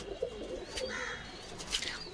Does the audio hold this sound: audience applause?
no